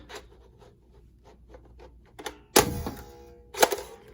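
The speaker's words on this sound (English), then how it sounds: "As soon as you pull it all the way back, it's gonna launch." A Little Tikes Mighty Blasters toy blaster gives soft plastic clicks and rubs as it is pulled back, then two sharp, close launch snaps about a second apart.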